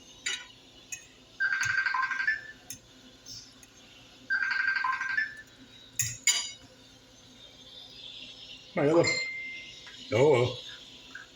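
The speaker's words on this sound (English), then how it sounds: "My other phone ringing." A phone ringtone chirps in two short melodic bursts, followed later by faint voices and light clinking in a quiet room.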